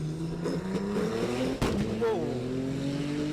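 A Nissan and a Porsche roll-race down a quarter-mile drag strip at Qatar Racing Club, their engines whining upward in pitch as they accelerate, with a sharp loud moment and a brief exclamation from a voice.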